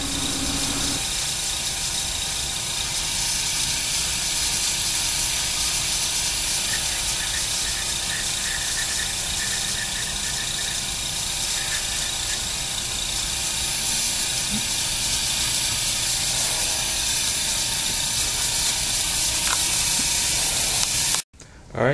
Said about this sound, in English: keep moving your airbrush, keep it more or less level as much as you can